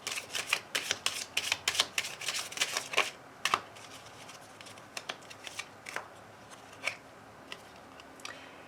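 Oracle cards being shuffled for a card reading, repeated crisp riffling bursts in quick succession, louder at first and then sparser and quieter toward the end, close and alone.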